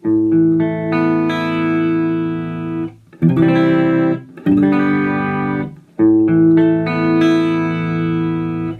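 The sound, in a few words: clean electric guitar through practice amp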